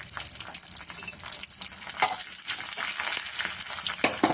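A spice tempering with asafoetida (hing) sizzles and crackles in hot oil in a pan while being stirred, a loud, continuous frying hiss with scraping stir sounds and small pops; no talking.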